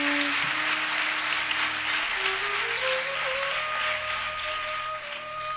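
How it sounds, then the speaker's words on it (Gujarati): An audience claps at a religious discourse on the Shiva Purana during the holy month of Shravan, giving sustained, dense applause over a steady tone for several seconds. "તમારી શ્રદ્ધાને પણ એકવાર જોરદાર તાળીઓ પાડીને વધાવી જોઈએ"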